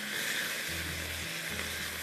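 Beef frying over a high flame gives a steady, soft sizzle with faint scraping stirs, short and alone.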